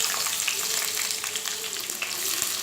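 Chopped onion sizzles in hot oil in a pan for vegetable fried rice, a steady, close, crackling fry that runs throughout with no voices.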